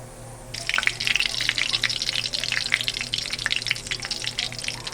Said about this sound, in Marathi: आता मी गरम तेलात खडे मसाले टाकले आहेत